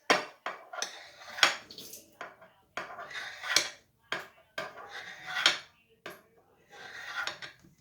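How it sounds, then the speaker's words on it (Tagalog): A knife slices set pandan jelly into cubes in a pan, giving a string of close, sharp clinks and taps as the blade strikes the pan bottom in an uneven rhythm. "Hiwain natin siya na pa-cubes."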